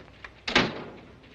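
An indoor door is pushed open with a brief thump and rush of air, fairly close, followed by a short fading rumble and quiet room tone.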